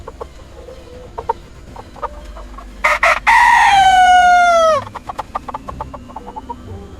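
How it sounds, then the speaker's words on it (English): A rooster crows loudly and close in a village, one long drawn-out call, with hens clucking in short bursts before and after. "Roosters crow."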